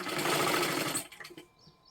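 A sewing machine stitches blouse piping in one short fast run that stops abruptly after about a second, leaving a few faint clicks and quiet.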